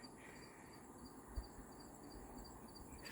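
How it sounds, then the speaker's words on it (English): Faint outdoor insect chirping with a soft pulsing trill on a nature walk, quiet and steady behind low background hiss, no talking. "There's some insects actually here."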